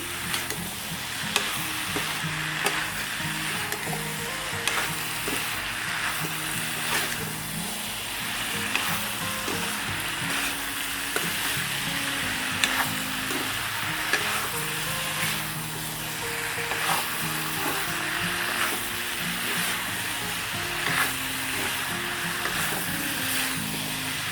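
Food fries in a pan with a steady, loud sizzle while a utensil stirs it continuously, adding frequent scrapes and clinks throughout, close up and with no talking.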